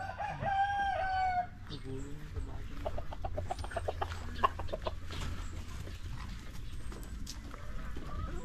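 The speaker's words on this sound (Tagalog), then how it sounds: "Ang lalaki ng manok nila, oh. Grabe. Yan ang mga rooster." A Dekalb Brown rooster crows loudly and clearly at the start, then farmyard clucks and chatter continue underneath over a steady low hum.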